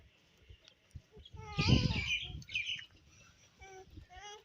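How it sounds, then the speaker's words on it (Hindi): Birds chirp around a rural village, giving a few thin high calls and one louder burst of twittering in the middle, moderately close, mixed with low rustling and background noise. "नेचुरल साउंड जो है ना, वो कितना प्यारा है नेचुरल साउंड, पंछियों की आवाज़ें"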